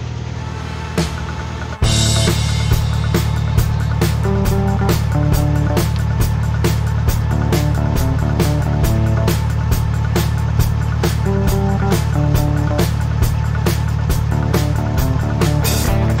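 A narrowboat engine starts and settles into a steady low chug while cruising on a river, with a regular ticking knock repeating throughout, close and continuous.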